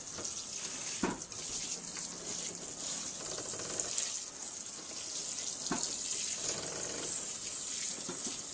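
Water is sprayed lightly over seedlings started indoors, making a steady, soft hissing patter that runs unbroken for several seconds with no one talking.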